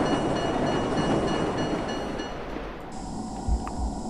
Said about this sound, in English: That train must have hurt.